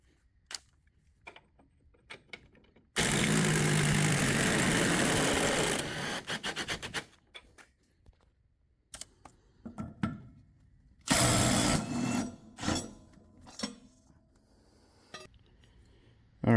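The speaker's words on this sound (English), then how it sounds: "now I'm going to take the old blade off my mower" Old blade being unbolted from a lawn mower, with two loud sustained bursts of power-tool whirring, likely an impact wrench, separated by scattered metallic clinks, scrapes and handling knocks close by.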